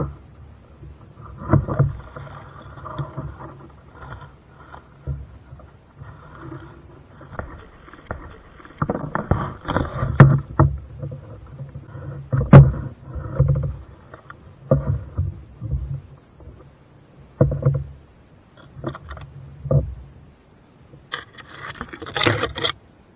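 A kayak is paddled on a lake, with irregular splashes and drips from the paddle, knocks and scrapes against the hull, and soft rustling, close and intermittent with no talking.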